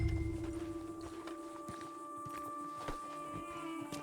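Horse hooves clip-clop in an irregular walking rhythm over a steady hum and tonal background in the video game Red Dead Redemption 2 on PS4, moderately close, with no talking.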